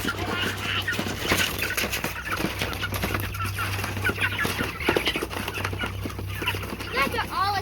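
Fowl being moved outdoors onto grass cluck and fuss in a busy, overlapping cluster close by, with a person speaking softly over the birds and a steady low hum beneath.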